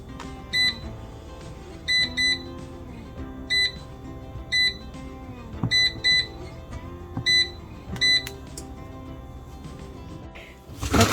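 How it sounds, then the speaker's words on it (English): A first-time air fryer, cooking a frozen ribeye, gives a series of short, sharp electronic beeps, mostly in pairs and triplets, repeating steadily and close by over a low household background. "air fryer beeping"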